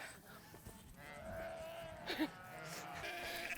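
Sheep on a farm call out from a milling flock, with one clear, wavering bleat standing out near the middle over a steady background of shuffling and movement.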